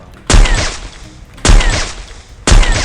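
An AWM sniper rifle fires no-scope in a shooter video game: three loud, booming shots about a second apart, each with a short ringing tail.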